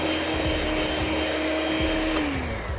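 Electric mixer beating a farm egg into soy cookie dough, with a loud steady motor whine that holds throughout and drops in pitch near the end.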